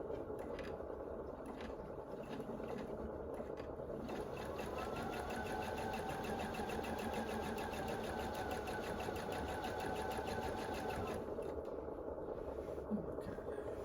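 A domestic sewing machine stitches through a large quilt, its rapid mechanical whirring steady and close across the whole stretch, the pitch of the motor rising in the middle section before settling back.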